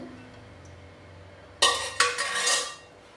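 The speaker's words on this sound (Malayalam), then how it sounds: "ശർക്കരപ്പാനിയാണ് ഒഴിച്ചു കൊടുക്കുന്നത്" Jaggery syrup poured into a pan of cooked rice ada for a Vishu payasam. A quiet stretch gives way to a sudden metallic clink, then a bright splashing rush that lasts about a second before fading.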